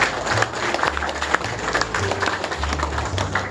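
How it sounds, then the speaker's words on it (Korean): Applause at the 35th memorial ceremony for democratic police superintendent Ahn Byung-ha: a steady spatter of many hands clapping, moderately loud, over sustained low tones that sound like music or hum underneath. "박수 한번 보내주시겠습니다"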